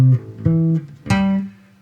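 Plucked bass guitar notes outline an arpeggio shape, a few loud, resonant tones each ringing briefly before the next, the last one sustaining and fading out, with no voice.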